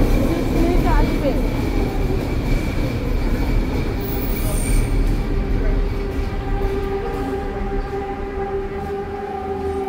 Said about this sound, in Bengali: এদের ট্রেন চলে আসে।